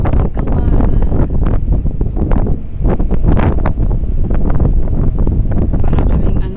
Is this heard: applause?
no